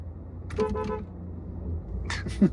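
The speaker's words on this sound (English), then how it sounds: "You start honking now." A Porsche Taycan's horn honks in short bursts against a steady road-like rumble, with a brief sharper toot near the end.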